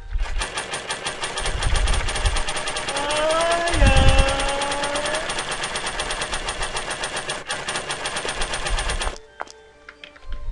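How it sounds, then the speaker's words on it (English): A chainsaw revs loudly in the horror video game Mad Father, a dense rattling engine drone lasting several seconds with a rising whine in the middle before cutting off abruptly. "Oh god, he has the chainsaw now."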